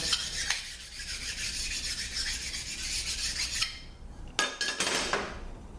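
Close, steady rasping as a part from a Toyota A140 transmission valve body is sanded by hand, with continuous back-and-forth scraping strokes, a brief pause, then a few short sharp rubs.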